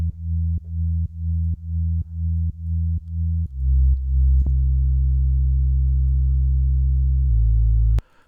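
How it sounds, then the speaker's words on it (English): A deep synthesizer bass line for melodic house music plays a run of eight short, evenly pulsed notes, then settles into long sustained low notes that cut off abruptly. "So then we have our bass line"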